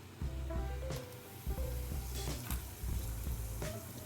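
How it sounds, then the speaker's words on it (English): Jamaican curry powder sizzles in hot olive oil, a close, continuous frying hiss with a few scraping stirs and small crackles throughout. "we're gonna put another 2 scoops of this Jamaican curry powder into the oil"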